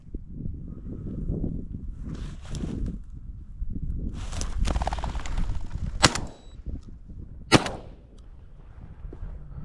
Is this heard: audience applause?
no